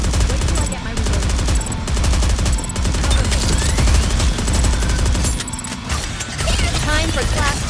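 Dense, loud automatic gunfire from the shooter game Goddess of Victory NIKKE rattles almost without a break, with rapid repeated shots and short pauses over battle noise.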